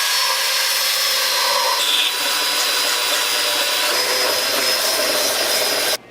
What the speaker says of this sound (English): I've got a grinding tool. Finger sander.